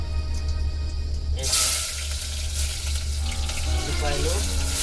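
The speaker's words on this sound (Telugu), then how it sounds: "ఉల్లిపాయ పచ్చిమిర్చి వేస్తాను." Onion and green chilli drop into a pan of hot oil, and a sudden loud sizzle bursts out and continues steadily over a low background hum.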